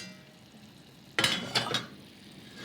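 Potatoes searing with red wine in a hot pan, a faint background hiss broken by a few loud sizzling bursts as they are stirred or moved, with no talking.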